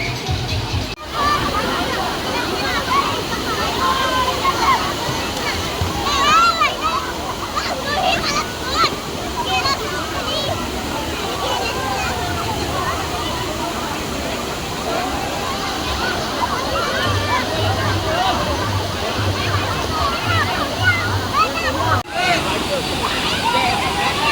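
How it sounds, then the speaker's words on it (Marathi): Panval waterfall in the monsoon hills: a continuous rush and slosh of falling water, fairly close and steady, with people talking and children's voices over it. "आता आपण धबधब्याकडे चांगला आनंद घेऊया इथं धबधब्याचा"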